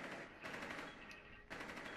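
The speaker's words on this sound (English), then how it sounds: "They shoot each other." Two short bursts of automatic gunfire in Rainbow Six Siege, heard at moderate distance with a rapid rattle over steady game ambience.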